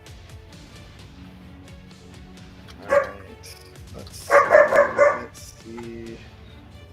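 A playful dog barks and yips in a short burst of several quick, loud barks close by, with a softer whine after; someone speaks briefly before it.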